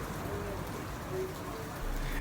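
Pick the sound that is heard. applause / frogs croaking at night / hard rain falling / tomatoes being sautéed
hard rain falling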